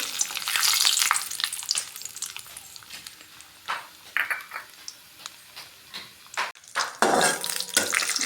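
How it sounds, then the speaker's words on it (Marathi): Ghee sizzles and crackles steadily in a hot pan, with intermittent scrapes and clinks of a spoon stirring against the metal. "आता कढईमध्ये मी तूप टाकून घेतलेलं आहे आता हे ते तूप भाजून घेते"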